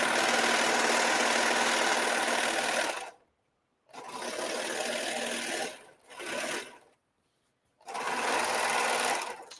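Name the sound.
serger sewing curved fabric edge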